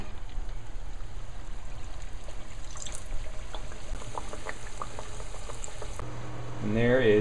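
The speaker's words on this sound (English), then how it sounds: "now we've got our first batch of samosas ready to go into the deep fryer" Samosas deep fry in hot oil with a steady, close bubbling sizzle that stays loud and even throughout, ending in a brief louder surge of bubbling.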